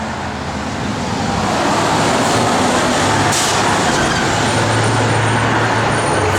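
The 350 engine of a 1972 Chevrolet Chevelle runs with a loud, steady, full-bodied rumble that swells slightly in the first second and then holds even, close by.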